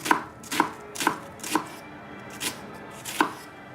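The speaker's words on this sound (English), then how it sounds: "And the shallot, I cut it in half, the long way, and just slice down as close as you can go" A knife slicing a halved shallot on a cutting board, six crisp, evenly spaced chops at a steady rhythm, close and clear, with no voices.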